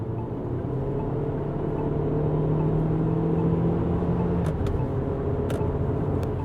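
A JAC JS6 car accelerating in sport mode to overtake, heard from inside as a steady engine drone and whir that slowly builds, with road noise underneath and a few brief clicks near the end.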